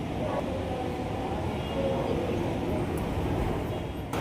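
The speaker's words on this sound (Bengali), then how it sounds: "রয়েছি জয়পুর মেট্রোতে, চলেছি এস্কেলেটরে চড়ে বাড়ি।" A steady low rumble fills a Jaipur metro station near the escalators, with faint mechanical hum and the odd distant clatter, no clear speech.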